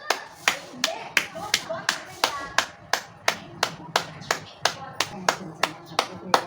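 Hands clap in an even rhythm, about sixteen sharp claps at roughly half-second intervals, close and clear, as part of a yoga exercise led by an elderly man.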